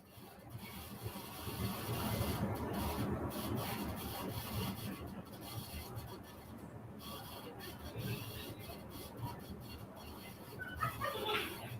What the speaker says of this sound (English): That is a rattling air conditioner that does a terrible job of air conditioning this room